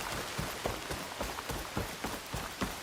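Steady rain falling in the rainforest in the video game Horizon Forbidden West, a dense hiss with scattered heavier drops tapping through it, close and continuous with no voices.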